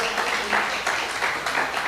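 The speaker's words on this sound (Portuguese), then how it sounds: "Você pode aplaudir ao Senhor com o seu melhor?" A church congregation applauds, a brief burst of many hands clapping in loose pulses, fairly close and busy.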